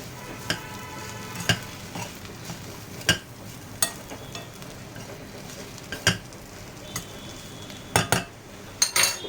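Leftover chapati pieces frying in ghee tempering, a low steady crackle broken by sharp spoon-and-pan clinks and scrapes every second or so as the pieces are stirred toward crispness.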